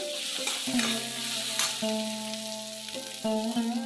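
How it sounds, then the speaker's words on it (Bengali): Ground spices, turmeric, chilli powder and chopped tomato sizzle in oil in a pan while a spatula stirs and scrapes them, with steady frying hiss and several distinct scraping strokes. "ভালো করে আমি মশলাগুলো কষে নেব"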